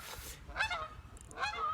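Geese honk outdoors, two or three clear nasal calls in quick succession, moderately close and fairly loud, with no talking over them.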